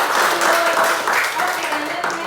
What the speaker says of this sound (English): can you give him applause?